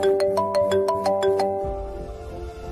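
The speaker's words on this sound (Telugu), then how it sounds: "అత్తయ్య ఫోన్ చేస్తున్నారేంటి?" An incoming-call ringtone on a mobile phone plays a bright repeating electronic melody of rapid tonal pulses, fairly loud, then cuts off and leaves a low background hum.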